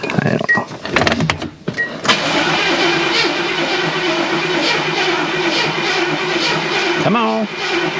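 A Mercedes R107 AMG, sleeping for 30 years, grinds through a long, continuous crank that won't catch, a steady loud churning after a few clicks and thumps at the start.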